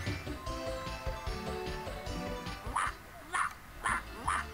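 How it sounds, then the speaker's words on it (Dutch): Artificial dog barks from the 102 Dalmatians video game, a run of four short yaps arriving in steady succession near the end over busy game music and effects. "Wauw, wat een neppe blaf."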